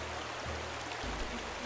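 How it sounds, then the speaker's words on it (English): A waterfall in the video game Getting Over It 2 gives a steady, moderately faint rushing wash of falling water that runs continuously without pause. "Again, waterfall, okay?"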